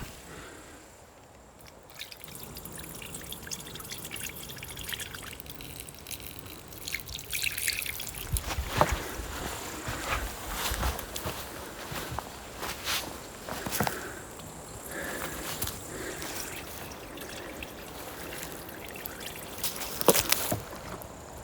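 Water poured onto the sloped floor of an underground house being built in a forest, trickling and dripping quietly in bursts, with soft rustles and footsteps nearby and no talk.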